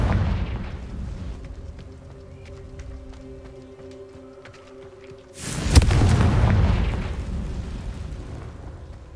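Confringo blasting spell in Hogwarts Legacy: a sudden heavy explosion bursts in after a few seconds of quieter game ambience, then rumbles and fades over several seconds.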